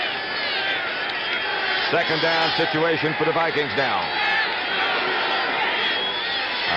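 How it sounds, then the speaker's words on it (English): A football stadium crowd roars steadily at a Vikings game, loud and sustained, while an announcer talks over the din. "these people have been non-stop 10 decibel shouting the whole game"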